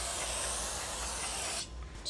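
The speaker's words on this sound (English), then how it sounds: "Spray down your rotor." Aerosol parts cleaner sprayed onto a Racingbrake rotor on a Cadillac ATS-V: a steady, close, broadband hiss lasting about a second and a half before cutting off.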